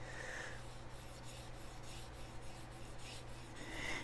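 A chef knife is sharpened in slow, even rubbing strokes, each pass a soft rasp, quiet and close over a low steady hum, with no speech.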